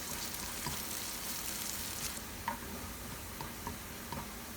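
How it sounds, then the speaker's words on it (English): Shallots fry over medium heat in hot oil with a soft, low sizzle. Chopsticks stir them continuously, adding light taps and clicks against the pan. "Reduce to medium heat and add the shallots. Gently and continuously stir with chopsticks so the shallots cook evenly."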